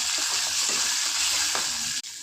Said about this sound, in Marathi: कोथिंबीरची पेस्ट व खोबऱ्याची पेस्ट टाकली. हे छान भाजून घ्यायचं.